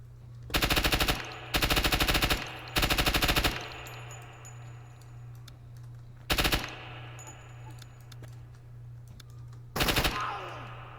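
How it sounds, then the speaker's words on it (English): Suppressive gunfire in a close quarters battle video game: three long machine-gun bursts in quick succession, then two shorter bursts after pauses, loud and close over a constant low electrical hum, with no speech. "I'm gonna keep up suppressive fire through this aperture"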